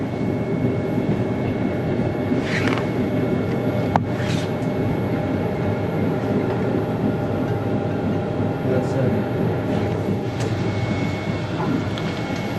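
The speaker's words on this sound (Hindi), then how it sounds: "तो स्टेशन आ चुका है और ट्रेन रुकने जा रही है" A train arrives and slows to a stop at Bergamo railway station in Italy, heard from on board as a continuous low rumble with faint squeals and brief clanks, no talking.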